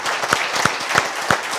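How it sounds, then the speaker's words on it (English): Audience applauds veterans standing up at a live event, a close, steady patter of clapping with a distinct rhythmic beat running through the short burst. "Can we give everyone a round of applause here?"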